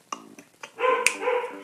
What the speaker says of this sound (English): I am so sorry about that dog.